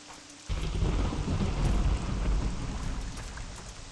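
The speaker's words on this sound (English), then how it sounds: "It's raining." Steady rain and rolling thunder in the video game Morrowind, a broad low rumble that swells in suddenly and lingers over a constant hiss of rainfall, loud and close with no voices.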